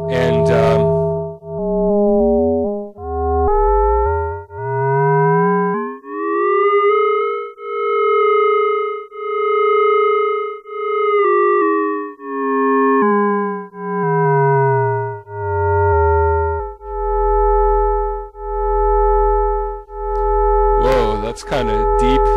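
Mixed sine wave tones from a binaural beat experiment glide and bend in pitch against a steady drone, forming widening sidebands with a slow, regular pulsing throb, ending in a brief burst of broadband chirps.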